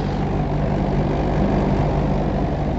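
A Mahindra 415DI XP Plus diesel tractor engine runs steadily at 1500 RPM, a loud, dense, continuous rumble close by with no break or change in level.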